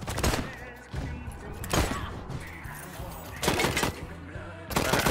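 Gunfire from a firefight in Wasteland 3, several loud bursts of rapid shots spaced about a second apart, with quieter combat noise between them.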